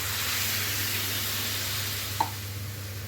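Water hits a sautéed green chilli curry in a pan, giving a soft, even sizzling hiss throughout, with one small clink partway.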